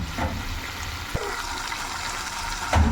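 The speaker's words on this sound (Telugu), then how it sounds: "ఇప్పుడు వాటర్ వేసేసుకుంటున్నాను" Water poured into a pan of potato curry with tomatoes, giving a steady, rushing pour over a noisy kitchen background, with a brief clink near the middle and a louder splash near the end.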